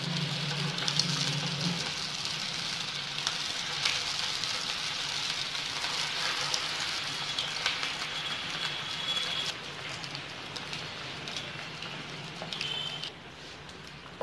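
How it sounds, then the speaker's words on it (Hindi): Semolina (suji) fingers deep frying in hot oil, a steady dense crackling and bubbling sizzle, close and continuous, easing slightly toward the end with no talking. "तो हमने यहाँ पे ऑयल रखा है जो गर्म हो चुका है, और हम हमारे सूजी फिंगर्स को फ्राई करते हैं।"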